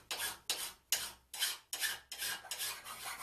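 A file rasps across small cut pieces of steel box section to square them off, in about seven close, rhythmic strokes with nothing else heard.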